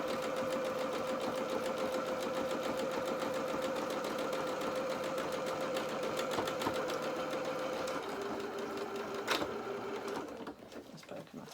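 A sewing machine runs steadily, reverse stitching a few stitches on doll bloomers, its dense mechanical whir continuous and close before slowing and stopping near the end.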